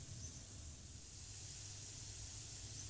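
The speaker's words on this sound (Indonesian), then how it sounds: "Selanjutnya bisa langsung kita goreng di minyak yang udah panas" Banana fritters fry in hot oil over medium heat, giving a steady, soft sizzle and crackle throughout with a low background hum and no voices.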